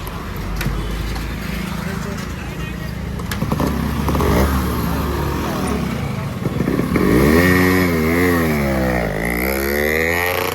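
A modified vehicle engine revving with exhaust backfire at an outdoor gathering, rough idle with sharp pops and crackles followed by rising and falling revs, loud and close, with people talking over it.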